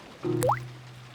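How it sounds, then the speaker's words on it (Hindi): Cartoon rainwater dripping into a house: a single quick watery plop with a rising, bloopy pitch, short and fairly close against a quiet background. "बारिश का पानी घर के अंदर आ रहा है।"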